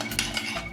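A spoon scraping and stirring ghee with Himalayan salt in a pan on the stove for palak paneer, a brief soft metallic scrape and clink, close and quiet with no talking.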